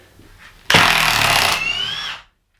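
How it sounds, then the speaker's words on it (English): A Milwaukee M18 Fuel 1/2-inch mid-torque impact wrench with friction ring hammers a 3-inch bolt in one loud, close burst of rapid impacts lasting about a second and a half, then winds down to silence. "You are getting a beautiful 1/2-inch impact wrench, man."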